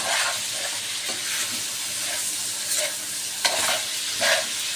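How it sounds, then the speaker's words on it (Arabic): Zucchini sizzling and frying in a pan, stirred every so often with soft scraping strokes; a steady close hiss with small bursts where the pieces are turned, no talking. "الكوسة اهي شايفين كل شوية بقلب فيها اهي"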